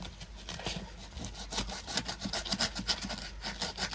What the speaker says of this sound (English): Such an awkward place to fucking sand as well.